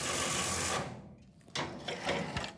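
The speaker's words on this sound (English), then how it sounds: "this Kalashnikov actually broke the machine, but it's really hot" Machine destroying a Kalashnikov rifle, loud grinding mechanical noise that drops away briefly, then resumes in rougher bursts and clanks.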